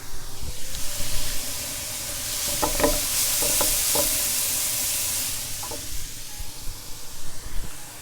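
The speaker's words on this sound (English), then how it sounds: "the mushrooms are beginning to sizzle" Mushroom caps sizzling in a pan while a stuffed Italian-style dish cooks, a steady broad frying hiss with small crackles and pops scattered through, close and alone with no voices.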